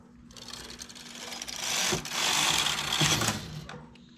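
Domestic knitting machine carriage sliding to the left across the needle bed, a close, steady mechanical whirring rush with rattling clicks that swells through the middle and fades at the end, no voices.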